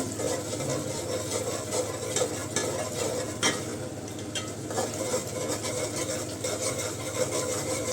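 Prawns tipped into a pan of fried masala and stirred, a continuous close sizzle with frequent scraping and clattering strokes of the spoon against the pan, no one speaking.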